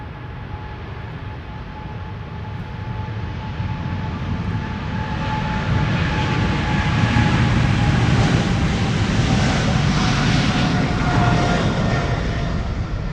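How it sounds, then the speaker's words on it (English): Jet engines of a KLM Boeing 777-300 spooling up for takeoff at Amsterdam Schiphol, a broad rumbling roar that grows gradually louder with a faint steady whine running over it, no voices. "Now spooling up is KLM flight 735, a 777-300 to Willemstad, Curaçao."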